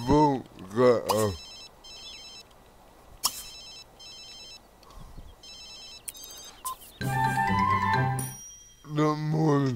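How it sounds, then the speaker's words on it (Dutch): A phone rings in The Sims 3, a repeating electronic trill in short bursts across the middle of the clip, with game voices talking before and after it. "Mijn telefoon gaat af."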